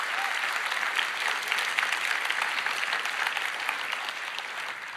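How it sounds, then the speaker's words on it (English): A large audience claps in a dense, steady round of applause at a Roblox keynote event, sustained and even throughout. "I would like to give them a round of applause for keeping the internet safe."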